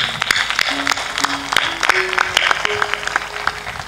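Loose, uneven clapping from an audience at a spiritual discourse, individual sharp claps scattered over a background murmur, with short held tones sounding intermittently underneath.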